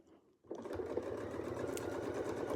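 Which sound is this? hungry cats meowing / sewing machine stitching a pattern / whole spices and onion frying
sewing machine stitching a pattern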